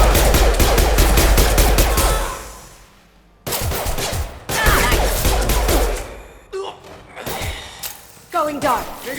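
Rapid bursts of automatic gunfire from a Mass Effect 2 firefight crackle loudly for the first few seconds, then return in shorter volleys mixed with thuds, while characters' voices talk over the combat.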